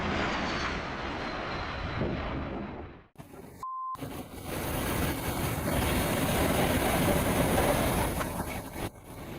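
An Air City Hopper Kia MLA 350-900 jet airliner touches down on Nuuk's new runway 04, a loud, steady broadband roar of engines and rolling that swells slightly and runs throughout, broken only by a brief dropout near the middle.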